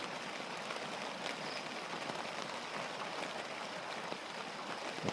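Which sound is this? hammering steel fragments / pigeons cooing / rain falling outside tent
rain falling outside tent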